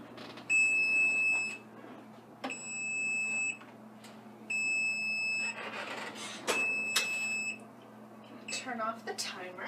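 A kitchen timer goes off after baking, sounding repeated bursts of high, bright electronic beeps in regular groups, with a person talking between and over them in a kitchen.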